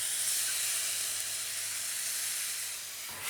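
Cumin lamb stir-fries in a hot pan, a steady, soft broadband sizzle and hiss that holds evenly before easing slightly near the end.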